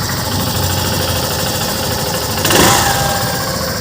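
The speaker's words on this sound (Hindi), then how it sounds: "जैसे ही हम सेल्फ देंगे तो इंजन देखो कितना साइलेंट होगा" A Hero Super Splendor Xtec 2.0 motorcycle idles with a steady, fairly loud mid-pitched hum, and a brief surge partway through as the self-start fires, with no talk.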